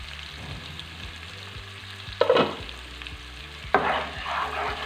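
Tomato masala mixture frying under a lid in a pan for dahi chicken, a soft, steady sizzle with a quiet repeating hum, then two sharper bursts of spattering or lid noise near the end, with no voices.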